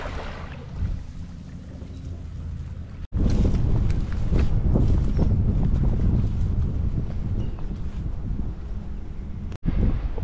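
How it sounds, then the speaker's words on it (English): Strong, gusty wind at Sebastian Inlet on Florida's coast, a loud steady roar of wind buffeting the microphone, broken by two brief drops, with no voices. "the wind is really gnarly"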